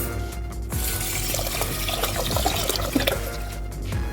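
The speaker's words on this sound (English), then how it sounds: "I'll add it in and add in water to top it" Water running and splashing into a cooking pot over rice for parboiling, a steady close pour lasting several seconds with a brief lull near the start.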